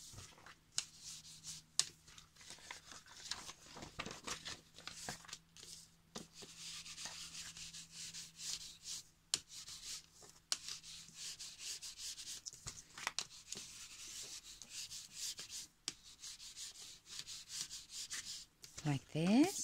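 Paper envelopes being distressed by rubbing with distress ink, making soft, scratchy brushing strokes in quick irregular bursts, close and quiet, with occasional faint voice in the background.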